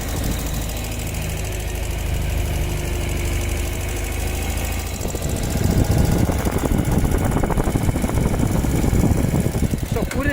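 A Ural sidecar motorcycle's engine runs with a steady mid-pitched drone that grows louder and rougher about halfway through, as if pulling away in first gear on rough ground.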